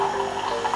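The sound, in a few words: Tassimo coffee machine pumping hot water through coffee disc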